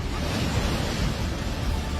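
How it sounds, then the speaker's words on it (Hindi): Fast floodwater of the swollen Ganga and Yamuna rushes in a dense, steady roar near Prayagraj, with no break and no voices. "तेज बहाव में आ रही पानी की डरावनी आवाज"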